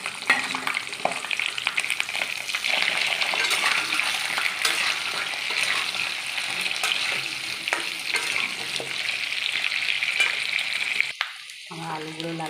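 Cut potatoes hiss and sizzle steadily as they fry in hot mustard oil with cumin and bay leaf in a wok, a dense continuous crackle that cuts off abruptly near the end.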